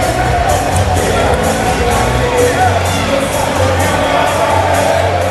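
Basketball crowd at a college men's conference final game, Rutgers Newark at Ramapo, filling the arena with a loud, steady roar of cheering, shouts and whoops that swells in waves under a murmur of voices.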